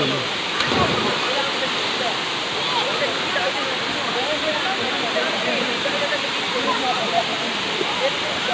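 Daranak Falls in Tanay, Rizal pours with a steady, close, broadband roar of rushing water that never lets up, with faint voices underneath.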